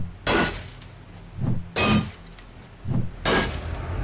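A hammer strikes three times in 7 Days to Die, each blow a sharp, loud metallic crack with a ringing clang, spaced evenly about one and a half seconds apart.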